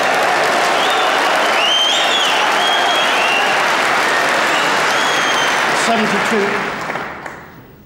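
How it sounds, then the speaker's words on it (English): A knowledgeable crowd at the 2000 Masters snooker final bursts into sustained applause for a shot, a dense, steady wash of clapping that carries for several seconds before tapering off at the end. "Once again, they applauded that shot that left Matthew needing a snooker."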